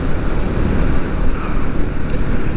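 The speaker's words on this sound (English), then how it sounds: "the consistent wind going on and about inside the helmet" Wind roaring inside a motorcycle helmet while riding, a loud, steady, broadband rush with low buffeting rumble, constant throughout and with no voices.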